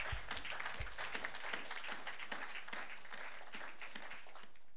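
A church congregation at a French-language worship service bursts into dense applause, many hands clapping steadily and close together for several seconds.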